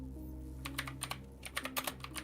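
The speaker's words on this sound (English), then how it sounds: "You got a loud keyboard." Keys clatter on a loud computer keyboard, a burst of a dozen or so sharp, uneven clicks after a brief pause, close and clear over a low steady hum.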